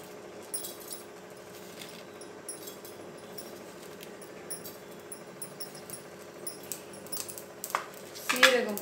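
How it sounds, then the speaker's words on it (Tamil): Cumin seeds spluttering in a hot pan while ginger kashayam is made, faint scattered pops and crackles over a low kitchen hum that grow busier toward the end, with occasional speech. "சீரகம் பொரியுதுங்க."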